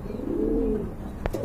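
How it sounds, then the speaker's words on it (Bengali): Big pigeon cooing in a loft, a single low rolling coo that swells and fades close by, followed by a brief sharp click. "আরেক জোড়া বিগ সাইজের কবুতর রয়েছে"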